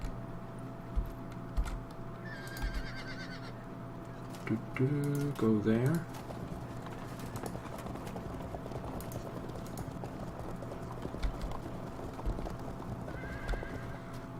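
Horses in a Field of Glory 2 battle neigh and whinny over scattered hoof clatter, with a prominent whinny near the middle; someone talks briefly over the soundscape, alongside a few faint keyboard-like clicks.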